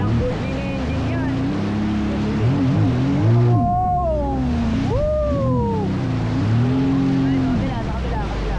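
A jet ski engine revs on open water, its pitch rising and falling in loud, close sweeps beneath excited voices talking and shouting.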